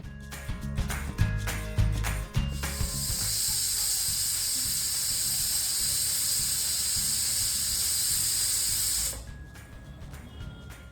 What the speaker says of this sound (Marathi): आता आपल्याला कुकरचं झाकण लावून 3 ते 4 शिट्ट्या आपल्याला काढून घ्यायच्या आहेत